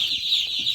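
Newly hatched chicks peep in a busy high-pitched chorus, many tiny voices overlapping continuously at close range, with no talk.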